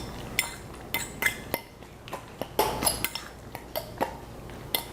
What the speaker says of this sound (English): now we just want to mash this up a little bit and give it a stir